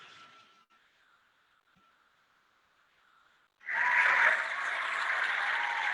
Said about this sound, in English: That's some applause for you.